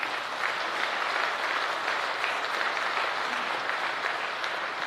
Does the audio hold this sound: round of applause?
yes